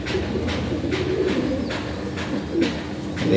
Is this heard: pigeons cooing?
yes